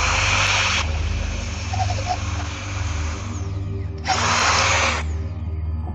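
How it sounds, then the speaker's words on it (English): A power drill bores out material during a repair, with two loud, sustained bursts at the start and near the end, separated by a quieter stretch of tool and motor hum. "go in there with a drill and get some of the"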